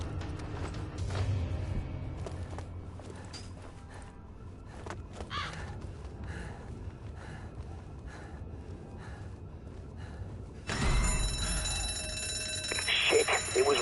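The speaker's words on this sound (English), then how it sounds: "it was rigged to the alarm" An alarm rings out in a PS4 video game near a supermarket; a bright, sustained ringing tone starts abruptly partway through and continues over ambient game noise and scattered clatter.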